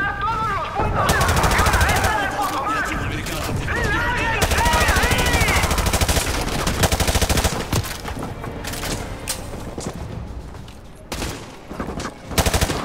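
Sustained machine gun fire in Call of Duty: Modern Warfare 2 Remastered, loud rapid bursts hammering on and off, with voices shouting over the gunfire and brief pauses between volleys.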